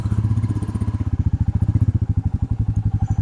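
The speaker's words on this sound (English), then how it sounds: "First gear, isn't that a beautiful bike right there?" A Royal Enfield Meteor 350 motorcycle pulls away in first gear, its single-cylinder engine thumping in a steady, rapid, loud pulse close by, with no talk over it.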